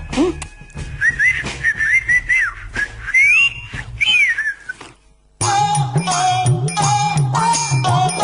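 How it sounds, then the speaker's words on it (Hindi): A person whistles a tune with the lips, bright wavering melodic notes over clattering percussive sounds, then a short gap before a second stretch of whistled notes over a rhythmic backing. "होठों को करके बोल, सीटी बजा के बोल"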